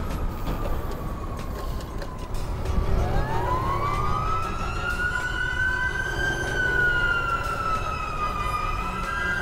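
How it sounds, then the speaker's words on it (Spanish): A wailing emergency siren rises and sweeps steadily, fairly distant, over a constant rumble of road traffic. "Escucho la sirena llamarme."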